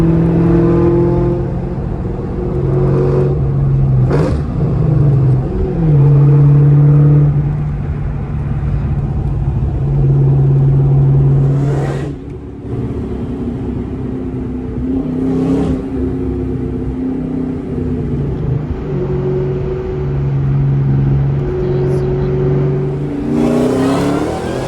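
A 2003 SVT Cobra Mustang on drag radials accelerates hard, its engine roaring loud and close with rising revs, brief dips between gear changes, and a steady strong drone throughout.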